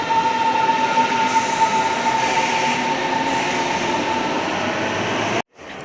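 A Berlin metro train rumbles steadily through an interchange station, a loud continuous roar of wheels and carriages with a faint high squeal running through it, ending abruptly near the end.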